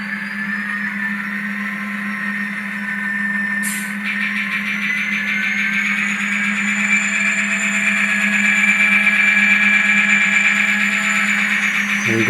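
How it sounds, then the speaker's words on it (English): An HO scale model train engine runs forward on a layout, a steady close electric motor whine with bright high tones that swells slightly louder toward the end, with no talking. "I will just pull the engine forward a little bit"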